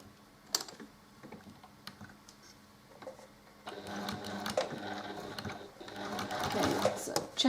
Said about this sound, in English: I just got to refill my bobbin